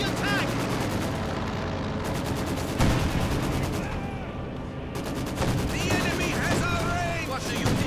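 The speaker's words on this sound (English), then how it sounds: "the flak panzer arrives and turns the charge there with its 37mm high explosive rounds" In Company of Heroes 2, a flak panzer fires 37mm high explosive rounds in rapid rattling bursts, mixed with other battle gunfire and explosions. A commentator talks throughout over the dense, continuous combat noise.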